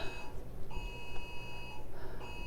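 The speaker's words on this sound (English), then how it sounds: "That's an amber alert or a weather alert. I think it's a weather alert." A phone sounds an emergency weather alert, a loud sustained electronic tone repeating in pulses with short gaps, heard alone over steady background hum.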